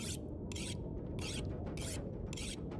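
An axe scraped against a whetstone in the survival game The Long Dark, five regular rasping strokes with short pauses between them over a low steady background rumble.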